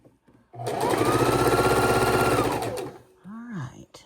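A sewing machine runs in one fast, steady burst while quilt rows are pieced together, near and loud for about two seconds, followed by a brief spoken voice.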